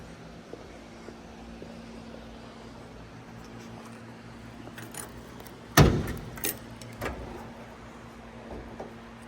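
Quiet faint rattles lead to one sharp, loud metallic clunk as the trunk of a 1967 Chevrolet Camaro 396 opens, with a few softer knocks after.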